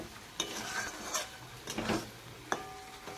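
Spices are stirred and mixed in a cooking pan for a pointed gourd and prawn paste dish, with several distinct spatula scrapes and clinks over a faint sizzle.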